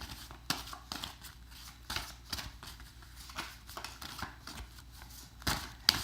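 Tarot cards being shuffled up close, a steady run of soft papery rustles and crisp riffling snaps with no voices.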